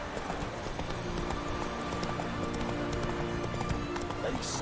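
Horse hooves clip-clop steadily as the rider's mount trots in the Witcher 3 video game, a continuous rhythmic patter of moderate loudness beneath a busy background of game sound and voice-like murmur.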